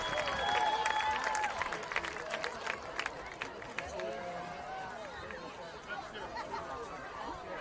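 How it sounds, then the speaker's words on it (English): A crowd in the stands at a high school varsity football game applauds after a halftime fireworks display, scattered claps with voices and chatter mixed in, fairly faint and distant across the open stadium. "A big round of applause"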